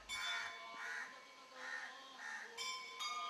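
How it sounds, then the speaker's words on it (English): Crows cawing and other birds calling around a temple, with the steady ringing tone of temple bells sustained underneath; the calls come in repeated bursts at moderate distance. "The birds twitter in harmony with the peal of the temple bells."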